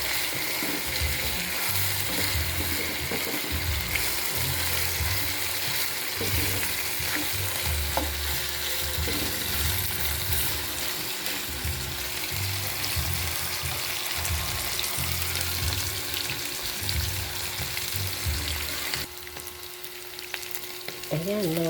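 Chicken pieces frying in cooking oil for adobo give a continuous loud sizzle, with occasional stirring and scraping in the pan throughout.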